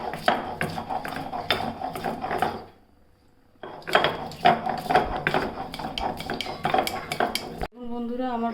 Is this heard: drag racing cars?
no